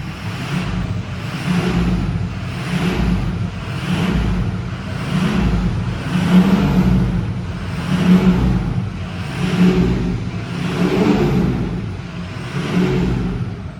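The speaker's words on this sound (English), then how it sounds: "I want to have you hear the exhaust on this thing" A Ford Excursion Limited 4x4 Powerstroke diesel revving repeatedly in steady surges, its exhaust rising and falling roughly every second and a half, loud and close.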